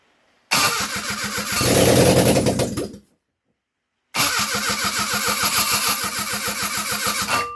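Ford Zetec ST170 engine running on DCOE carburettors with an ESC module cranks and fires, runs roughly for a few seconds and dies, then restarts after a short silence into a steady, loud, lumpy idle.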